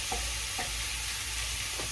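Ground meat for manicotti filling browning in a pan, a steady soft sizzle with a few light stirring scrapes, close and fairly quiet, no talking.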